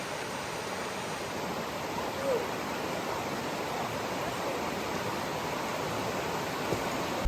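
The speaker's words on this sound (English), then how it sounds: "Waterfall, huh? Let's see the waterfall." Steady, broad rushing roar of a waterfall on Fires Creek, North Carolina, constant and enveloping, with no voices over it.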